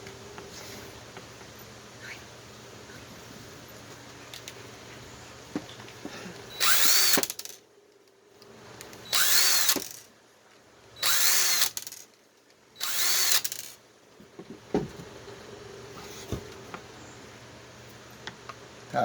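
A power tool drives screws to remount the transmission on a 2wd Traxxas Rustler RC car, four short whirring bursts separated by pauses, close and loud against quiet background.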